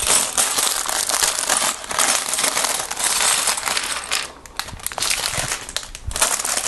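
Loose Lego pieces tumble out of plastic bags onto a table in a steady stream of small clicks, rattles and plastic crinkling, close and continuous, with no talking.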